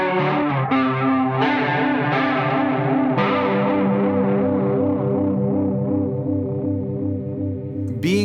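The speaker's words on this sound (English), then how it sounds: "So we can have that rat-like distortion going into chorus." Electric guitar chords ring through an Old Blood Noise Endeavors Excess pedal, a rat-like distortion feeding chorus, each struck chord sustaining with a swirling, warbling shimmer that slowly decays.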